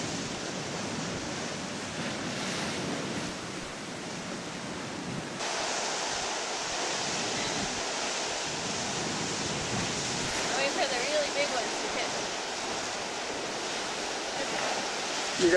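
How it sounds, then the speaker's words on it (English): Ocean water washes steadily against a rocky shore lined with California mussel beds at Cape Perpetua, a continuous rushing surf with occasional louder swells and some wind. "and water washing up on the edge."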